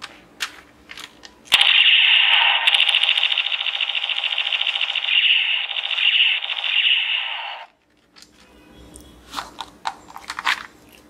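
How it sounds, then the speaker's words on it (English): A 3301 model toy gun, a large battery-powered sniper-style blaster, fires in one loud continuous buzzing burst of about six seconds, followed by a few faint clicks. "Super powerful toy gun"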